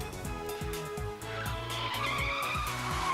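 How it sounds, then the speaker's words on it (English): A bicycle brakes with a rising squeal in the Steins;Gate visual novel, the skidding screech continuous and fairly loud over rhythmic, repeating game music. "Just then, the sound of a braking bicycle comes from downstairs"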